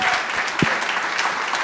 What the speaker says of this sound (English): We have to clap it up for that